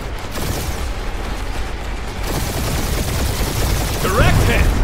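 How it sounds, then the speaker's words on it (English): Spaceship dogfight in Guardians of the Galaxy: dense rapid weapon fire and rumbling blasts pour out continuously and loudly, with a voice briefly speaking over the battle near the end. "We're taking fire! Now this is a proper dogfight!"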